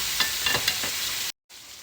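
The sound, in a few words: steak searing in bacon grease in a pan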